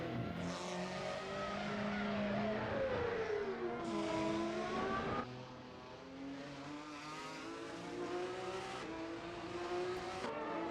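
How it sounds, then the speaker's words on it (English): An F1 race car engine in a racing video game at the Estoril Grand Prix, loud and continuous, revving up and down through gear changes with sliding pitch and brief bursts of noise. "That one single F1 car alone is making me turn down my my audio."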